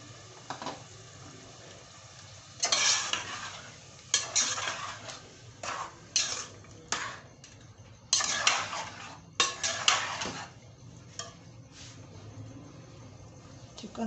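Boneless chicken frying in a handi pot, with a spoon scraping and clanking against the metal in irregular bursts over a steady low sizzle, close by and with no voices.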